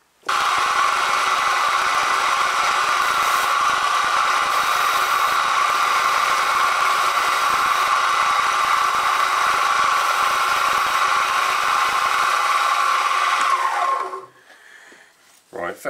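A small metal part for a miniature petrol engine is faced on a machine tool, giving a loud, steady, high-pitched cutting whine up close. The whine holds for about fourteen seconds, then winds down and stops, leaving faint clatter.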